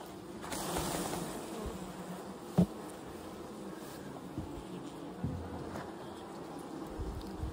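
Honey bees hum around an open hive with the top bars exposed, a steady low buzzing that holds throughout, with one sharp knock partway through and no voices.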